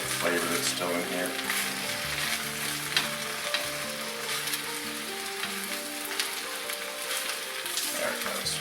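Baby spinach wilting in a hot pan with garlic, giving a loud, continuous sizzle and crackle, with occasional stirring, bright and close throughout.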